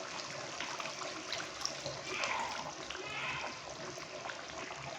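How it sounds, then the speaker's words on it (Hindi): Water poured into a pan of Kashmiri chicken masala curry, giving a steady soft splashing and trickling that runs throughout at moderate, close level, with faint background noise. "तो हाफ गिलास इसके अंदर डालूंगा मैं अभी पानी"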